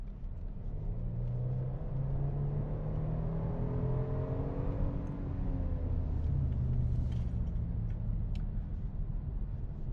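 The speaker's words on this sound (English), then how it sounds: "we got a tunnel really quick. It's gonna mess up the audio." A 2023 Kia Stinger GT2 drives through a tunnel, its engine and road noise forming a steady, enclosed rumble with a droning whir that rises and falls, with no talking.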